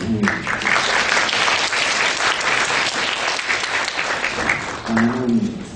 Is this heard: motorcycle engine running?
no